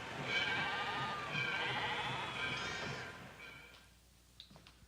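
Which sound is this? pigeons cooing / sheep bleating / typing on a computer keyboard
sheep bleating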